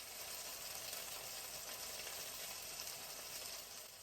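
Lemon frying in a pan on medium heat gives a steady, faint, even sizzle with no breaks, heard alone without any talking.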